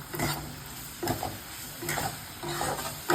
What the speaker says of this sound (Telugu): అప్పుడప్పుడు చూసుకుంటే ఎర్రగా వేగేదాకా ఉంచాలి